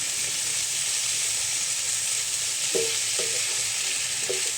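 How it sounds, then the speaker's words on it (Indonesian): Tomatoes with spices stirred in a hot frying pan give a loud, constant sizzle and hiss, broken by a few light scrapes of the spoon against the pan, with no voices. "Tomat udah masuk, langsung aja diaduk-aduk seperti ini loh teman-teman."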